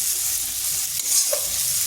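A spice paste fries in oil in a kadai, giving a continuous close sizzle with light stirring and scraping of a utensil against the pan.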